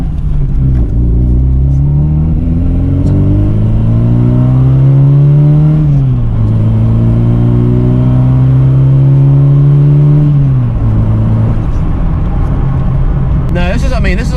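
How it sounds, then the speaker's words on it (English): A 1986 Ford Capri 2.0 with the Pinto engine spins its wheels and accelerates hard, its engine note climbing, dropping and climbing again through loud, steady revving, with a voice speaking over it. "Oh, wheel spin."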